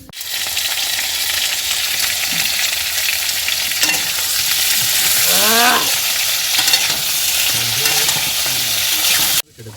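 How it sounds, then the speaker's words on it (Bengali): Potatoes fry in a hot wok on a boat, a steady loud sizzle with occasional stirring scrapes and a few faint animal-like calls in the background. "আলুগুলো আমরা ভেজে নেব"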